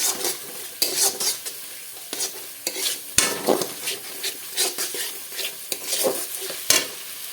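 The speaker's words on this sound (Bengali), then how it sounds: "অল্প অল্প করে জল দিয়ে এটা কষে নেবো" A spice paste for snakehead fish curry is stirred and fried in oil in a kadai, with a spoon scraping and knocking the pan repeatedly over a soft, steady sizzle, close and alone.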